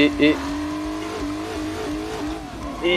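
A BMW E38 740i V8 engine revving and accelerating while drifting on a short circuit, a steady droning engine tone that rises and shifts pitch, heard beneath someone speaking over it.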